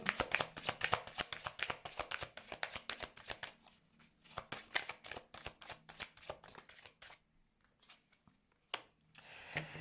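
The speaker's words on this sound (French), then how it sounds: "Je vais mettre une dernière carte pour voir la suite de cet échange." Tarot cards shuffled rapidly by hand in a dense, riffling patter, then laid out with a few softer, sparser slaps and flicks, close and alone without talk.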